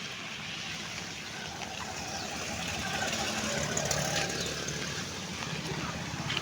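A vehicle's engine runs steadily through heavy rain, a continuous broadband rumble and hiss at moderate level with no talk over it.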